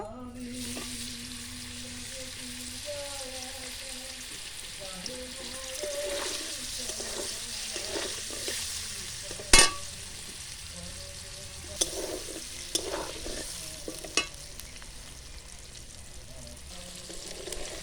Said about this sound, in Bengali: এবার পনিরগুলো ভেজে নেব।